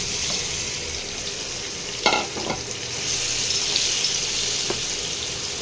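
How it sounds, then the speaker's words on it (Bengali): Boiled potatoes rubbed with salt and turmeric fry in hot oil for aloo dum, giving a continuous close sizzle with a couple of sharp utensil clinks against the pan partway through. "আলুগুলোকে একটু ভেজে নেবো তেলে"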